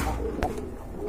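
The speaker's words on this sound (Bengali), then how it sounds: "খুবই সুন্দর এক জোড়া কবুতর" A pair of German pigeons coo softly at close range over a steady low background, with one brief, slightly louder call partway through a very short moment.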